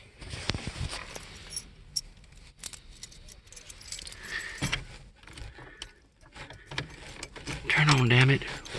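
Keys jangle and click near the ignition of a 1980 Buick Regal junkyard find, with faint rattles and a voice speaking near the end.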